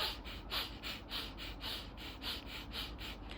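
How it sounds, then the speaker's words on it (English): Exaggerated, inefficient shallow breathing demonstrated during a breathwork and pranayama lesson: rapid, evenly spaced short breaths, roughly eight in a few seconds, close to the microphone with no talking. "So this is how I breathe if I was breathing inefficiently."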